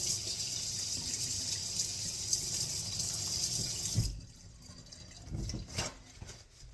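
A kitchen water tap runs steadily while a finger is rinsed under it, loud and close, then cuts off, leaving a few drips and splashes in the sink.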